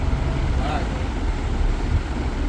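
A houseboat moves along the Alleppey backwaters in Kerala, with a steady low engine rumble and wind noise filling the whole stretch without a break.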